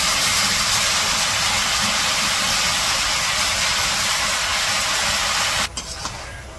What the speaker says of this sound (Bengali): তো শাকগুলা দিয়ে দিচ্ছে, এখন সব মশলার সাথে মাছের সাথে শাকগুলো ভালো করে কষিয়ে নেব